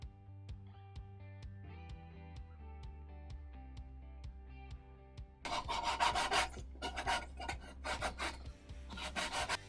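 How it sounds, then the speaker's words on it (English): A jigsaw cuts a circle out of a wooden piece for a homemade rope maker. A steady tonal hum comes first, then loud, rasping bursts of cutting start up close and run in uneven stretches until the end. "And now I'll be cutting it out with the jigsaw."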